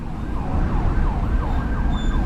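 Ambulance siren wailing in a rising and falling pattern through slow city traffic, fairly close and steady, over a low rumble of motorcycle and vehicle engines.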